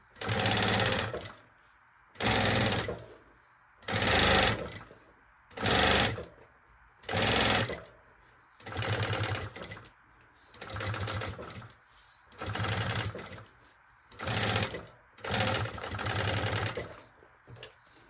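A sewing machine stitching a seam on a fabric maternity bag, running in about ten loud, close whirring bursts of one to two seconds each, separated by brief pauses.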